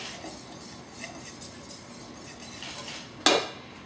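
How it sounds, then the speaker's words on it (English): Flour and baking powder are whisked in a bowl for banana-honey-nut cupcakes, giving soft, quick scraping strokes, with a single sharp clink of metal on the bowl near the end. "And we're going to whisk this up together."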